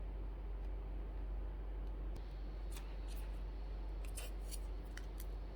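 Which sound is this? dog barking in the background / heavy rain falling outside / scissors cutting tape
scissors cutting tape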